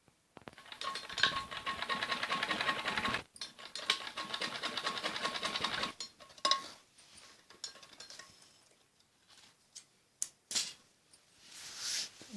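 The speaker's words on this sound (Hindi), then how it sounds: "पूरे गले पे ऐसे ही सिलाई लगानी होती है।" Sewing machine stitching piping around the neck of a kameez, running in long continuous bursts with a brief pause, then stopping and giving way to a few soft handling clicks and rustles.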